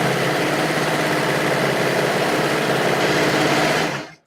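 Serger sewing machine running in a home craft studio, a steady rapid whirring buzz for about four seconds before stopping abruptly.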